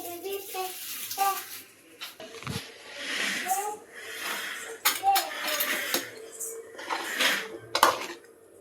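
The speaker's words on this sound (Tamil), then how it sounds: "இப்போ இதெல்லாம் மிக்சர் ஜார் கழுவி தண்ணி ஊற்றிக்கலாம் ஃப்ரெண்ட்ஸ்" A mixer jar being washed and water poured into it in a home kitchen: intermittent splashing, pouring and clinks of the jar, with a person speaking throughout.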